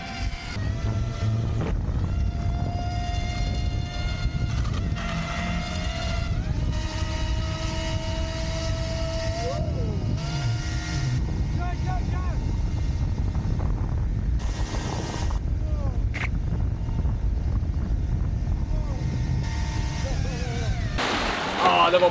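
A model hydroplane driven by an electric motor races across water with a high, shifting motor whine that rises and falls as it passes. Choppy wind buffeting and splashy bursts come through, heard from a moderate distance.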